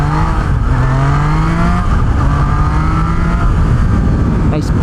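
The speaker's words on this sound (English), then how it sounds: "Nice punchy little engine." A Triumph Trident 660 motorcycle engine pulls hard through rising revs, rasping loud and close with shifting pitch steps as gears change, under strong wind rush.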